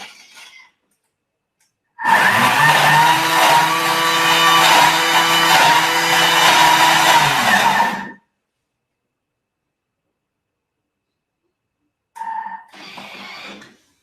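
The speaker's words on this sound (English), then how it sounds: "It's gonna be a little bit loud like any blender" A kitchen blender runs loudly for about six seconds with a steady whirring motor, stops, then gives a short second burst after a pause.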